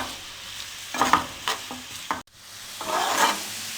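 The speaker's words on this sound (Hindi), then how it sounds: "मीडियम फ्लेम पे 3 से 4 मिनट हम प्याज़ों को फ्राई कर लेंगे" Chopped onions stirred and frying over medium flame in a pot for beef haleem, with bursts of scraping and a steady sizzle through the clip, close and moderately loud, no voices.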